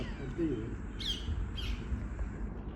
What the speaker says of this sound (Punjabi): ਇੰਨੇ ਆ ਗਏ ਜਿਹੜਾ ਪਿੱਛੇ ਰੌਣਕ ਲਾਈ ਪਈ ਆ ਤੋਤਿਆਂ ਨੇ